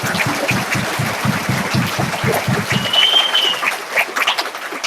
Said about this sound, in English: So give them all of them another round of applause.